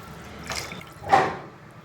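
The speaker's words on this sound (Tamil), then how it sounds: "இப்போ தண்ணி வந்து நான் சேர்த்துக்கிறேன்" Water splashes briefly twice into a cooking pan, a short soft pour followed by a louder one, close by and alone.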